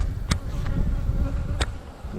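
Close, busy buzzing of yellow honey bees in a nuc hive, a continuous drone with a couple of sharp louder passes as individual bees fly near.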